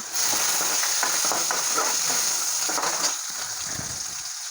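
Onion and green chilli fry in hot oil in a pan for potato bhaji while being stirred, a dense close sizzle with scraping spoon strokes that ease off toward the end.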